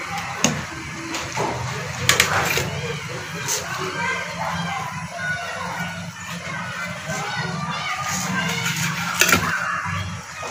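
Chicken spring rolls shallow frying in hot oil give a steady crackling sizzle that runs through the whole stretch, with a few sharp pops and knocks rising above it.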